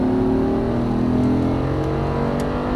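An Audi R8 accelerates hard on a race track, a loud, close engine roar with a steady rising tone, heard from inside the cabin with no speech.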